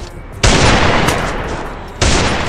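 Two loud bursts of rapid gunfire from a mobile shooter game, the first sustained for over a second and the second starting near the end, close and harsh.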